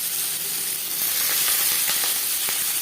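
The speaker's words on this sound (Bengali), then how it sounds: "সবার প্রথমে আমি পান্তা ভাত সার্ভ করার জন্য আলু ভেজে নেব।" Small skin-on potato pieces fry steadily in hot oil in a pan, a continuous close sizzle and hiss with occasional faint pops, nothing else over it.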